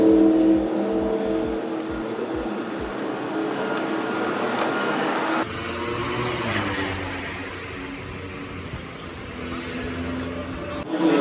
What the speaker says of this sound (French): la moto arrive d'ailleurs